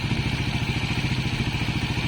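A Raider 150 FI motorcycle engine runs at a steady idle during a timing-chain tensioner reset for a ticking noise. It is heard close up, with an even, rapid pulsing beat and a light mechanical clatter throughout.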